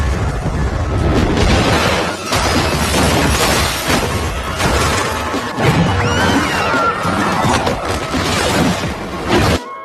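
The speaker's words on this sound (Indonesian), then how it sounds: "menembakkan peledak ke arah mobilnya sehingga membuat mobil itu meledak" Loud, chaotic crashing and booming rumble continuously from a car exploding in an action film, with repeated heavy impacts and debris-like clatter and no speech.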